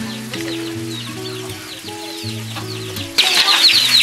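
A chicken clucks repeatedly nearby with short rhythmic calls, ending with a louder, busier burst of clucking.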